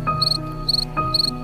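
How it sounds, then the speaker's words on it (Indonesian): A chirping cricket rubbing its wings together, giving three bright, evenly spaced trill bursts over a steady low hum, loud and close. "akan menghasilkan getaran dan gesekan yang menciptakan suara yang khas yang dikenal sebagai suara jangkrik"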